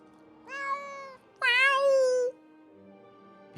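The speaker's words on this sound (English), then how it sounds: "Be quiet, cat." A cat meows twice nearby, first a short rising cry and then a longer, louder drawn-out meow, with quiet room noise between.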